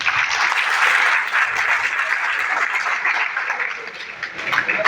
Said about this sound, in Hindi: चलिए एक बार अपने लिए जोरदार ताली बजा लें।